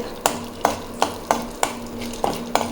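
Rhythmic scraping strokes of a spoon stirring mustard seeds, cumin, urad dal and chana dal frying in a pan, about seven evenly spaced hits over a soft sizzling hiss, close and clear.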